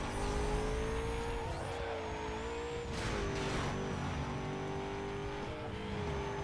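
Cars racing in Need for Speed Most Wanted, engines droning steadily with shifting pitch, brief tire squeals and a car whooshing past midway, quiet and continuous throughout.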